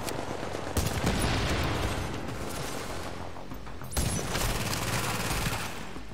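Gunfire in The Division shooter game: sustained rapid bursts of automatic weapon fire, loud and close, with two sharp surges of shooting that run continuously through the clip.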